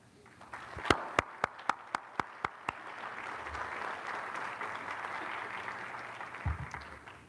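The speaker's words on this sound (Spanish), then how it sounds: "quiero que le brindemos un aplauso" Audience applause for Doctor Zabalza at a university teaching symposium, opening with a run of sharp separate claps before swelling into a steady, broad round of clapping from a crowd that continues to the end.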